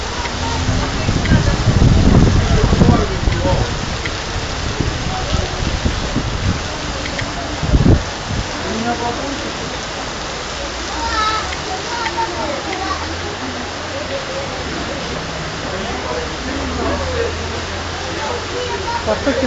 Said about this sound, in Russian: потоки воды идут.